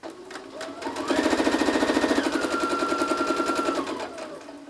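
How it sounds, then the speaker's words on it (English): A sewing machine runs a straight stitch joining quilt block pieces under a 1/4 inch presser foot, a close rapid mechanical chatter that speeds up after the first second, holds steady, then eases off near the end. "you can just have that 1/4 inch presser foot on your sewing machine and start sewing"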